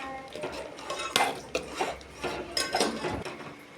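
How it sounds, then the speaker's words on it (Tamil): Semolina (rava) is stirred continuously in a pot over low heat, with a spoon scraping and clinking against the metal in soft, irregular strokes, fairly quiet and with no talking. "சிம்மில் வச்சுக்கிட்டு ரவையை சேர்த்து கைவிடாமல் கிண்டிக்கலாம்"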